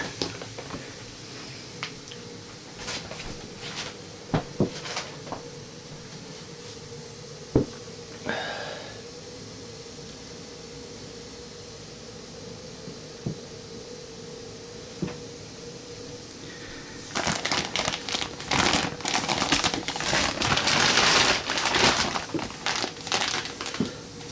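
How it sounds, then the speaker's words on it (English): A Helix queen mattress unfolding and expanding out of its packaging, giving scattered creaks and sharp pops that build into a dense burst of crinkling and crackling near the end, close by with no talk. "Making a whole lot of creaking noises, it is. Popping and creaking."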